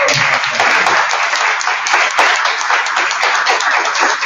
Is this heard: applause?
yes